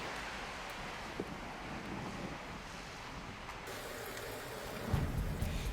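Rain falls during a thunderstorm in Greece, a soft continuous wash of noise with low rumbling. A short knock comes early on, and a heavier surge of deeper thunder arrives near the end. No voices.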